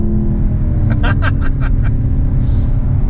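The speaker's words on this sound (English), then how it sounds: "Listen to that V8. Listen to that." Chevrolet Camaro SS sixth-generation V8 engine revving under acceleration, a steady loud engine drone with rising throttle bursts, heard from inside the car with a voice briefly over it.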